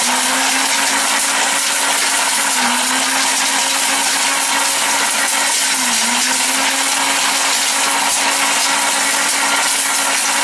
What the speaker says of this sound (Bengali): একমাত্র এই অরপাট ব্লেন্ডারই আছে যেটা কোনো আলাদা নাই।